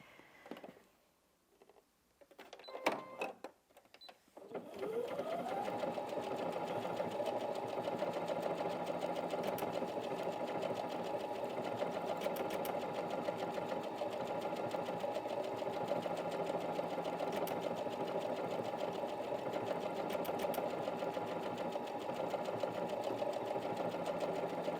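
A Brother Inventio NV1850Q sewing machine works wide decorative stitch 51. A few soft clicks come first, then one long, even, continuous motor hum with a rapid needle rhythm.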